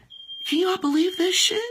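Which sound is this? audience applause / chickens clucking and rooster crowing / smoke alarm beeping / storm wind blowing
smoke alarm beeping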